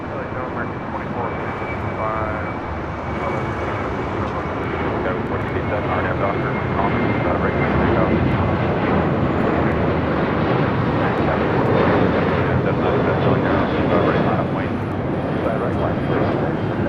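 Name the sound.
Boeing 737-800 jet aircraft on runway 25 left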